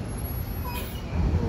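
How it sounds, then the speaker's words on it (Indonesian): An Elang Laut bus at the Merak port, a steady low engine rumble with a faint hiss from nearby road traffic, growing slightly louder toward the end. "Ada bus elang laut."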